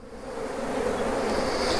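Dense, close buzzing of honey bees swarming around a beehive frame, a continuous droning hum that swells slightly and holds steady throughout.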